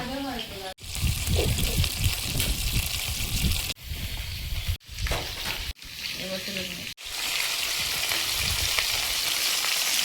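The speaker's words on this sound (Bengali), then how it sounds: "মাছগুলো ভাজা হয়েছে, তুলে নিচ্ছি।" Fish frying in hot oil in an outdoor jungle kitchen makes a loud, continuous close sizzle, cut by a few brief gaps, while a person talks over it.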